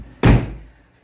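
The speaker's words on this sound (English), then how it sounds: "So I'm going to close the door" A 2021 Toyota 4Runner door shuts with a single solid thunk nearby, followed by a brief fading resonance.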